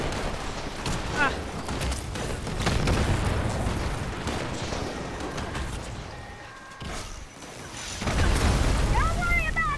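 Explosions and crackling gunfire in the video game Fallout 76 pound almost without pause, loud and dense, with a brief lull near the end before more blasts and some whistling tones.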